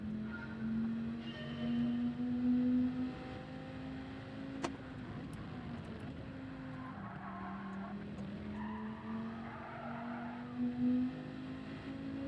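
A Gr3 race car in Gran Turismo 7 at Spa holds a steady engine drone while the tyres squeal and skid in long stretches, with a sharp click midway and no talking.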